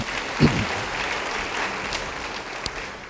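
A church congregation claps together during a sermon, a brief sharp burst followed by steady, moderately loud clapping that fills the room with no voices.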